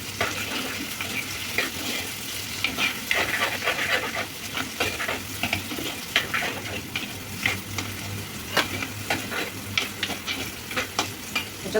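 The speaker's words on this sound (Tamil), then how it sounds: "வெங்காயம், தக்காளி, கருணக்கிழங்கு ஆயிலே நல்லா மசியணும்." Onions, tomatoes and yam frying in oil in a pan, a steady sizzle broken by repeated scraping and stirring strokes, close and fairly loud with no voices.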